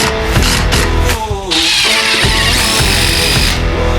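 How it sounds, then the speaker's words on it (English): A DeWalt quiet impact driver drives screws in a dense, continuous burst of rattling, hammering mechanical noise that stays loud and close throughout. "What I want to do is drive a few screws and compare it to the old noisy impact driver."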